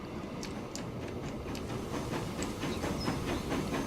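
Stone train running in the video game Transport Fever, a steady rolling rumble with soft rhythmic clicks and a faint hiss, moderately loud and continuous throughout, with no talking.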